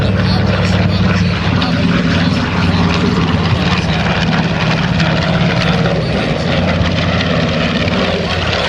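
B-25 Mitchell bomber flying at the 2010 Boston Portsmouth airshow, a loud sustained twin piston-engine roar with a droning propeller hum, close and powerful throughout.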